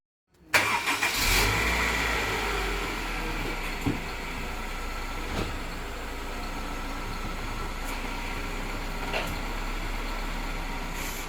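A 2000 Honda CR-V, just fitted with a new clutch, cranks and fires after a moment of silence, then settles into a steady, close idle with a few faint clicks and knocks over the hum.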